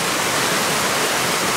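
Pila Brook on Dartmoor rushes steadily nearby, a loud, dense, unbroken wash of flowing water with no voices.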